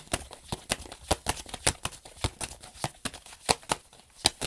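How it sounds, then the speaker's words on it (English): A deck of cards being shuffled: a series of crisp riffling snaps and taps in an irregular rhythm, close and fairly quiet. "I'm going to shuffle the deck one more time."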